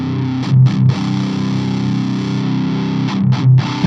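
Heavily distorted metal guitar played through an amp plugin with no filtering, a thick, loud sustained chord with a bright fizzy top end and a couple of short palm-muted chugs at either end.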